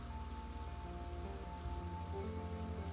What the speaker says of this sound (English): Just try to enjoy the rain.